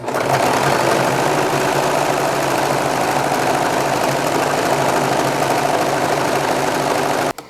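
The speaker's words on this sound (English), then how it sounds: "start serging again" Serger sewing machine running continuously while serging a napkin: a loud, close, steady rapid whirring drone that holds evenly for about seven seconds before stopping abruptly.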